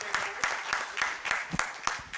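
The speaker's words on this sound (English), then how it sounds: "One more round of applause for Mark." A council meeting audience gives a round of applause for an honoree, sparse and moderately loud, with claps arriving in roughly regular bursts while voices murmur underneath.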